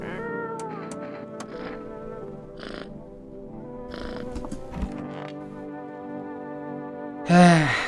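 A cat meows several times in short plaintive calls, fairly close, ending with a louder drawn-out meow, amid quiet game-like background tones.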